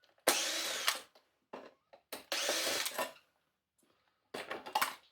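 Cordless power screwdriver undoing Torx screws on a cordless vacuum, several short whirring bursts separated by pauses, close and clear with no talking.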